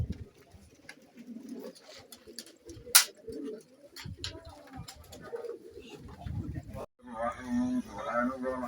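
Racing pigeons coo in low, soft, repeated pulses at close range, mixed with scattered clicks and handling noise. People talk over them, and a louder burst of sound comes near the end.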